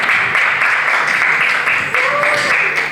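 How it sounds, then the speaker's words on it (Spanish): Loud, sustained applause from a crowd at a poetry exhibition talk in Santiago, with voices mixed into the clapping throughout. "un grito para Yornel, un aplauso"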